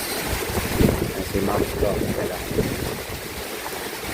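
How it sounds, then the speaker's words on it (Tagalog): Strong typhoon winds of storm Aghon roar steadily against the microphone at a mountain campsite in Cavinti, Laguna, a continuous broadband rush with voices talking beneath it. "sobrang lakas ng hangin."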